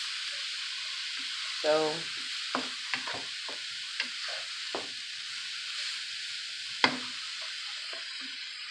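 Cauliflower rice heats in a pan for keto congri with a soft, steady sizzle, broken by a few sharp scraping and tapping stirs of a utensil, faint and close.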